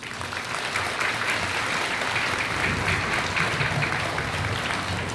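An elementary school Veterans Day audience claps for fifth graders and a middle school chorus, a steady, full round of applause from a large room, unbroken through the whole stretch.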